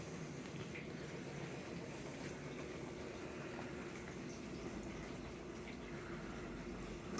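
A Bosch 300 Series dishwasher running out of its cabinet gives a faint, steady wash of water sloshing inside over a low rumble, quiet and unbroken throughout.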